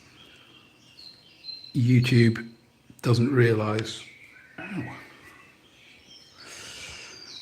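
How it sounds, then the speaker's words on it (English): Recorded birdsong plays quietly in the background of a live painting stream, faint chirps and trills scattered between a man's spoken phrases. "So I'm just playing some birdsong."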